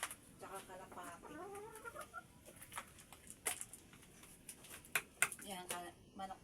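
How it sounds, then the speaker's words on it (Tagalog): Backyard chickens clucking at feeding time, with several soft clucks and murmurs scattered through the clip at moderate distance, mixed with quiet outdoor background and nearby voices. "Yan, manok namin yan."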